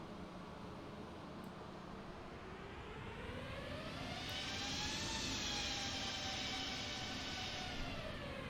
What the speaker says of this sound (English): engine number 2 has started up